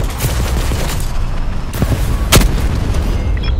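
Missile explosion in Call of Duty: Black Ops 4, a dense roar of gunfire and blasts with a sharp, loud boom near the middle amid continuous battle noise.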